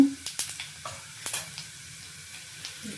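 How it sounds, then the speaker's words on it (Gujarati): Cumin and asafoetida tempering in hot oil, a crackling sizzle broken by sharp pops and stirring clinks, close by, fading a little toward the end. "હવે આપણો વઘાર આવી ગયો છે એટલે એની અંદર પહેલાં આપણે જીરું નાખીશું, થોડું હિંગ"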